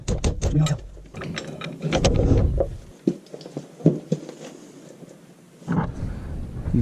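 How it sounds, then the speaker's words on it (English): Loose clunks and ratcheting knocks come from a Ford F350 front end as its U-joint and stub shaft are pushed and wiggled, irregular metallic taps close by with quiet gaps between. "If I push on the U-joint, stub shaft starts wiggling."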